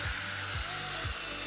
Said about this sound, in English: this is a step drill and they are super good